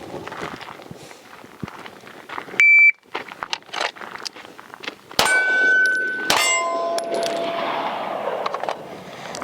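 Shot timer buzzer sounding a steady electronic tone, followed by a series of sharp pistol shots from a Staccato XL during transition drills, each crack clanging and ringing out in a reverberant range.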